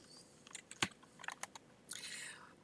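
Light typing on a computer keyboard while entering code, a few soft scattered keystrokes and a short quick run of taps, fairly close and quiet.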